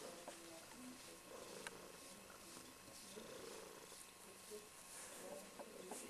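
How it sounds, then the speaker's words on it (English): A cat named Scruffy purrs steadily while being scratched at home, a faint, rapid rattling purr that runs continuously and close up, with light rustling and a soft voice in the background. "He just purrs and purrs and purrs and purrs."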